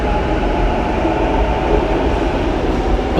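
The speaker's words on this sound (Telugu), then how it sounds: "ఆ పైన ఏమో ట్రైన్స్." Train rumbling on an overhead line in Sydney near a tram stop, a steady loud broadband roar sustained throughout without any speech.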